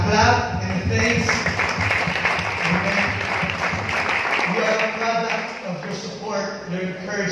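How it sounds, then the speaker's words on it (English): Applause during a batch 2020 graduation speech: a steady wash of many hands clapping runs throughout, partly buried under continuous voices speaking over it. "And they deserve a clap and a thanks."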